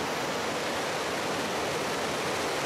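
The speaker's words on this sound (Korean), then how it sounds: "짐바브웨 지역의 빅토리아 폭포는 잠비아 쪽보다 물보라가 크지 않다" Victoria Falls on the Zimbabwe side roars as a steady, dense wall of rushing water, loud and unbroken throughout with no other sounds.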